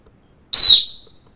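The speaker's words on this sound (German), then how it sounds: "Hat eine kleine Pfeife drin." A single short, piercing whistle blast from a small whistle built into a multitool, loud and shrill, ringing briefly before fading out; silence around it.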